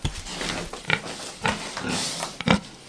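Pigs grunting and oinking on a farm, several short close grunts at irregular intervals over a steady background of farmyard noise.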